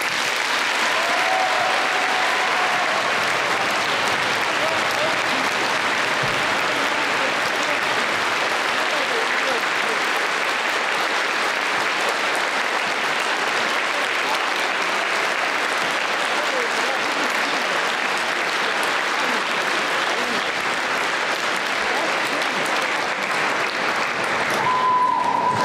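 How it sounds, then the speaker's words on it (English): An audience at a high school Veterans Day program claps for veterans, with sustained applause filling the room at an even level for well over twenty seconds and no voices over it. "pay tribute to our veterans with a round of"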